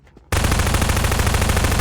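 Sustained automatic SMG fire in Garry's Mod, a dense continuous burst of rapid shots that starts abruptly after a brief quiet moment and stays loud and close throughout.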